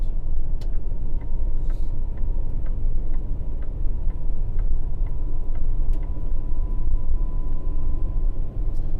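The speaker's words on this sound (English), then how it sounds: "you get a little bit more road noise on the Peterbilt compared to a Cascadia" Steady, loud road noise rumbles inside a 2024 Peterbilt 567 truck cab at highway speed, with a faint constant tone and light periodic ticking over the drone.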